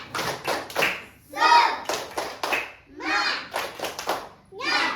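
Students join in a rhythmic tepuk semangat spirit clap at the start of an Indonesian religious education class, with bursts of patterned clapping alternating with chanted group voices.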